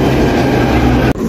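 A Delhi Metro train runs steadily with a loud, continuous rumble and rail noise that briefly drops out near the end.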